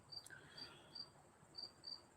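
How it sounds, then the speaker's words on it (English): Crickets chirp outdoors on a quiet night. Short, thin, high chirps repeat at a steady pace, faint and somewhat distant, over a soft hiss of background air with no voices. "you can hear the crickets going"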